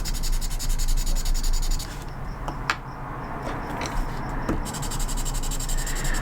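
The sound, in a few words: carbon pencil drawing lines on paper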